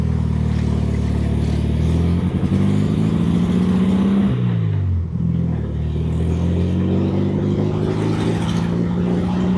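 A 1960s VW-based Ford Model T kit car drives along the road, its engine droning loud and close with rising and falling pitch as it accelerates and shifts, a steady clattering rumble with wind buffeting.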